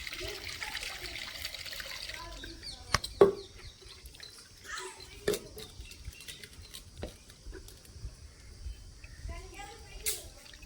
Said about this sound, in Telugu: చింతపండు పులుసు పోస్తున్నాను